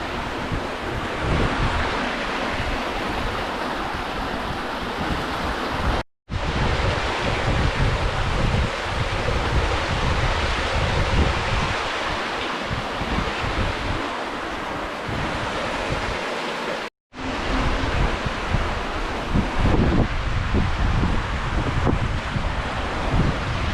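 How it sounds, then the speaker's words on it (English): Steady, broadband rushing of a waterfall in the Wichita Mountains fills the whole stretch, loud and continuous, with two brief dropouts to silence partway through. "Water flowing all over."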